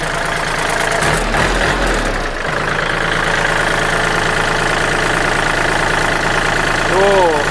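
Original engine of a used farm tractor idling, a loud, steady mechanical chug with a constant low rumble throughout, and someone talking over it.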